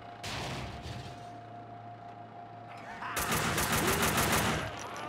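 Gunfire in Max Payne 2, a sharp early shot followed later by a loud rapid automatic burst of evenly spaced shots, with a steady background hum between them.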